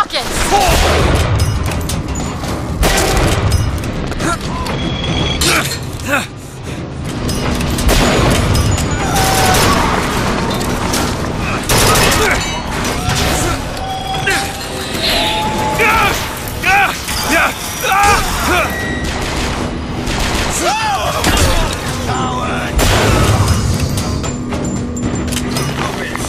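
Rocket explosions and gunfire in a video game: dense, loud bursts of shots and booming blasts crowd the whole stretch, with shouted voices and game music mixed in.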